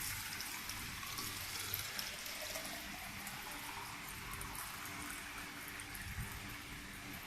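Water pours steadily from a cylinder into another container during a classroom volume demonstration, a continuous soft splashing gurgle with no talking.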